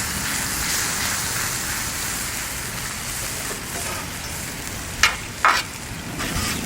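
Smash burger patties sizzle loudly and steadily on a Blackstone griddle, a dense rain-like hiss up close, broken near the end by a couple of sharp metallic spatula or tong scrapes.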